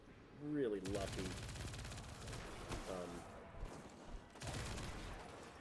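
A 900 RPM submachine gun in Destiny 2 fires in rapid sustained bursts, loud and close, with short game voice sounds in between.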